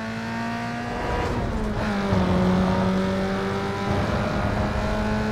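A Ferrari engine revving and pulling through gears in a Need for Speed race, a steady loud tonal drone with rising and falling pitch sweeps, heard alone without talk.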